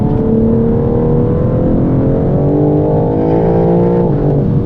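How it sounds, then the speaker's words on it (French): A 2021 BMW M3/M4 Competition, 510 hp, growls in sport mode with exhaust valves open, a loud, close, steady engine and exhaust drone that rises in pitch as it revs, then dips briefly near the end. "je mets mon mode sport, ça ouvre les clapets"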